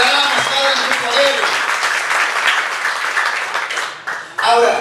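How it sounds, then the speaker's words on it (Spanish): A church congregation applauds at a sermon, with sustained dense clapping and crowd noise under an amplified voice speaking over it, briefly thinning before swelling again at the end. "Decláralo con un fuerte aplauso."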